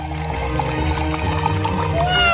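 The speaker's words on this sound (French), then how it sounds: "je vais verser un peu de coca par là" Cola poured from close by, a steady loud liquid stream that continues through the whole moment, with a faint tonal ring and no talk over it.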